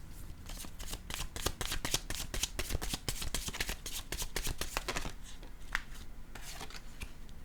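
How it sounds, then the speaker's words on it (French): A deck of tarot cards is shuffled close by, a rapid run of crisp riffling flicks and slaps that thins out toward the end, with no talking. "Allons-y maintenant avec une carte,"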